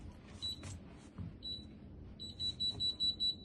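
An Alarm Lock Trilogy DL2700 commercial keypad lock beeps during a hard reset: a few scattered short high beeps, then a quick run of six or seven evenly spaced beeps, close over faint room noise.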